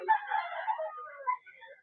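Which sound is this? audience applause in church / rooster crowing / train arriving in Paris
rooster crowing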